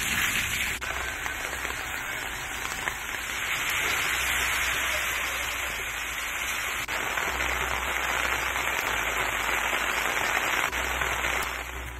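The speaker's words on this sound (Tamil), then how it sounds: "தமிழகத்தின் பல்வேறு பகுதிகளில் கொட்டி தீர்த்த கோடை மழை" Heavy summer rain pours over parts of Tamil Nadu in a steady, dense hiss with scattered crackling drops that carries unbroken for twelve seconds.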